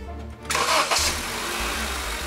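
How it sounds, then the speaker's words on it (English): A car engine cranks briefly and catches, then settles into a steady, loud idle with a low rumble, recorded close to the engine bay during an alternator voltage test, with no talk. "With the multimeter connected, start the engine."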